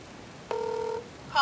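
A single ringback tone purrs for about half a second over a quiet line, heard through a Google Nexus 7 speaker, then a brief burst of noise follows.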